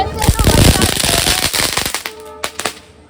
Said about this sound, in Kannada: ಈ ನನ್ನ ಮಗ ಜಾಸ್ತಿ ಹೊಡಿತಾವನೆ ಡಮ್ ಡಮ್ ಅನ್ನೋದು